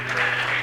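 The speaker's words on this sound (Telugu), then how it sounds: "చప్పట్లు కొట్టండి" Church congregation clapping together during a Sunday service, a brief dense burst of applause, steady and fairly loud throughout.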